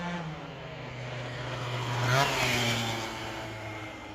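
MBK stunt scooter on a test ride after clutch adjustment, small engine buzzing and revving with a pitch rise around the middle, moderately loud and close, no talking.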